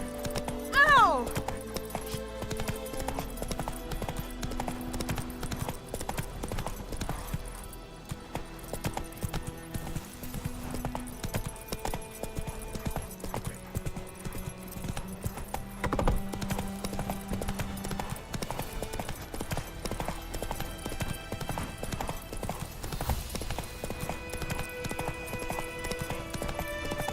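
Roach the horse galloping in Witcher 3, a steady clip-clop of hooves running under game music and effects, with a voice speaking over it.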